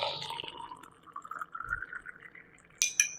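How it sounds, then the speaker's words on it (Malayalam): Boiling water is poured into a glass holding two spoons of cardamom-flavoured herbal tea powder. A rising gurgle fills the glass over a couple of seconds, and a few sharp glassy clinks come near the end, with no talk. "അതിനുശേഷം നല്ല തിളച്ച വെള്ളം ഇതിലോട്ട് ഒഴിക്കുക."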